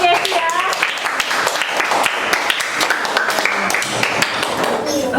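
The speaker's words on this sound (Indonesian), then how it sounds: "Tepuk tangan untuk Yesi ya." A classroom audience applauds a student during a teaching exam, steady clapping spread across the room at moderate loudness, with bright taps and a few voices mixed in.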